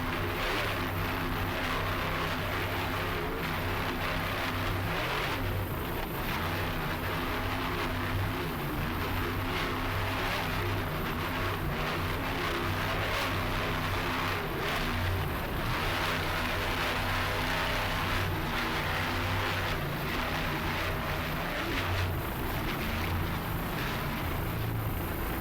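Racing powerboats at the 2005 Miami Grand Prix heard from a low-flying helicopter, a steady loud engine and rotor drone filling the whole stretch with no pauses and no talk.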